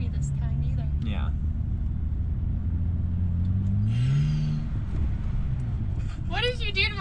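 A cold 2009 BMW 328 E90 with its muffler deleted rumbles at idle, then revs up and settles back in a deep, throaty exhaust swell. Brief voices come in near the end.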